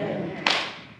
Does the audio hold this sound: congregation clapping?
yes